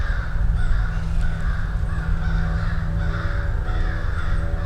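Crows caw repeatedly at a steady pace in an outdoor setting. The calls are loud and nearby, set over a constant low background rumble, and no one speaks.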